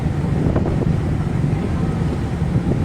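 Wind and waves on a ship crossing the sea between Saint Martin's Island and Cox's Bazar, a steady loud broadband roar of gusting wind and surging water throughout, with no voices.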